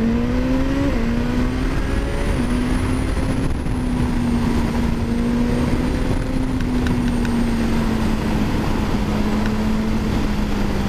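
A 2022 Suzuki GSX-S 1000 motorcycle accelerates hard and shifts up through gears with a quickshifter, its engine note climbing and then briefly dropping at each shift, loud and steady for the whole stretch with nobody speaking.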